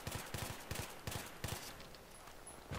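Short, sharp bursts of automatic gunfire in Battlefield 3, several quick clusters of shots spaced apart early on, then fading into quieter background noise.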